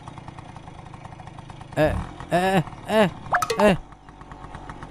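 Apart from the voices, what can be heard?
motorcycle engine stalling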